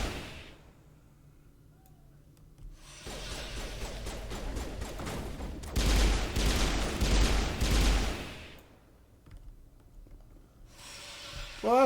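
Mass Effect combat gunfire: rapid bursts of shooting rise in the middle of the scene, loudest in a dense stretch of volleys before fading back to quieter game ambience.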